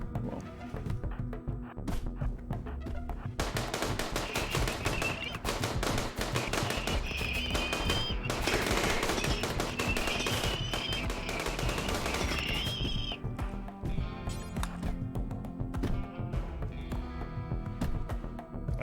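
Chain shotguns fire in RimWorld combat, a dense, continuous stretch of rapid overlapping gunshots and impacts that grows heavier in the middle and keeps up the whole time.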